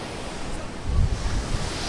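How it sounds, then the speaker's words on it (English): Ocean waves crash onto Kappad beach in Kerala, a broad roaring surf with gusty wind noise on the microphone and a heavier swell breaking midway through the short stretch, no talking. "You can see the motion in the ocean, these huge waves."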